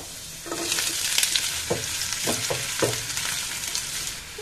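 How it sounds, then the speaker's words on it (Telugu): Onions hitting a pan of roasted ginger-garlic, a steady close sizzle of frying with several sharp stirring scrapes in the middle, no voices. "ఇప్పుడు మన అల్లం తల్లుల్లి రోస్ట్ అయిపోయింది కదండి కొంచెం ఇప్పుడు ఉల్లిపాయలు వేసుకోవాలండి అందులో"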